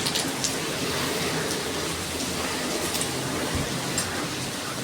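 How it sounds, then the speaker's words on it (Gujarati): Steady rain pouring down in strong wind, a dense continuous hiss with no voices, holding at an even level throughout. "આજ તો પવનની બહુ જ છે, વરસાદ ચાલુ છે."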